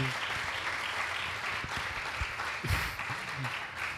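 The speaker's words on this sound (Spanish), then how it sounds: "yo os pediría un aplauso para los ponentes" Moderately faint applause from an audience at a youth debate in Gijón, many hands clapping in an even patter for the speakers, with a few louder individual claps near the end.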